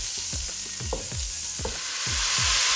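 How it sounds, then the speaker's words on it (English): Butter sizzles and crackles as it melts in a hot pan, a constant frying hiss with repeated scraping stirs at regular intervals, close up. "Let the butter melt a bit."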